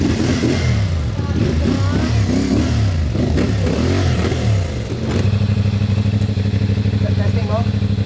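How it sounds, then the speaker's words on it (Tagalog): A rented motorcycle engine revs loudly and close by, its pitch rising and falling in repeated throttle blips before settling into a steadier, higher drone. "Kaya meron akong nirentahang bike."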